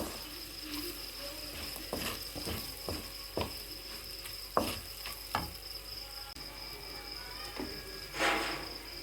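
Onion cubes sizzle and fry in a pan for kadai paneer, a steady quiet crackle broken by several sharp stirring and scraping knocks, with no talk over it.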